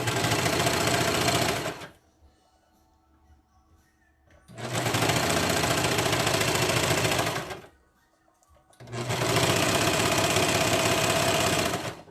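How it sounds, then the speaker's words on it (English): A sewing machine stitches a seam on a pair of leggings in three long, steady runs of loud, close motor whirring, separated by short pauses, with no talking. "So sew a little bit and then come back here to your pin."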